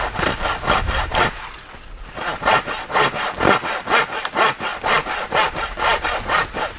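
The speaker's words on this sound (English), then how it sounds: "let's try and do some sawing" A hand saw with a saw-back blade cuts through wood in steady, rhythmic back-and-forth strokes, close and fairly loud, pausing briefly before continuing.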